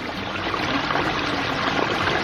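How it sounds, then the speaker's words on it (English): Water from a pond biofall waterfall splashing over rocks in a landscaped backyard pond, a steady, full rushing wash that stays even and close throughout with no talking. "Every waterfall sounds different."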